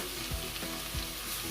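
Beef quesadilla filling sizzles steadily in a pan while a utensil stirs it, giving a few dull knocks and scrapes over the constant frying hiss, close up and without speech.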